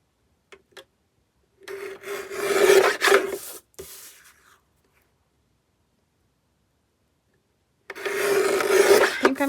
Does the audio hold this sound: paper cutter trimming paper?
yes